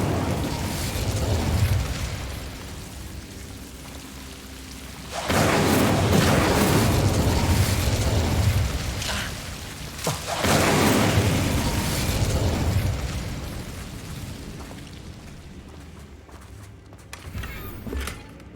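Incendio fire spells cast in Hogwarts Legacy: two long roaring, crackling blasts of flame, each lasting a few seconds, with quieter rumbling and a few footsteps in between. The spell effects are loud and close.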